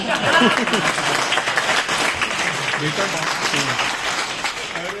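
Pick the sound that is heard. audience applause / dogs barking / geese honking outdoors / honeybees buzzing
audience applause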